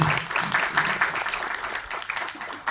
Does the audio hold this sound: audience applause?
yes